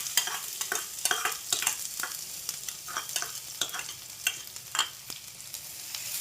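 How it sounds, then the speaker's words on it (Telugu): Crushed shallots frying and sizzling in hot tempering oil for an egg chutney, a steady close crackle broken by repeated stirring scrapes, with no talk. "చిన్నులపాయని బాగా కొంచెం ఎర్రగా కాలేదాకా వేయించుదాము."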